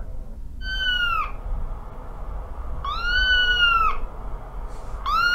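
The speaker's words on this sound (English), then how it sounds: "This is my cat, Sugar Baby." Three drawn-out cat meows on a voicemail, rising-falling pitch, spaced a couple of seconds apart over a steady hum, sounding slightly compressed like a phone recording.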